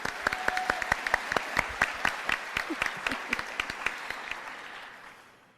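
Audience applause at a 2021 commencement ceremony, a steady run of sharp, close claps that rises briefly and then thins and fades out, with no talking over it.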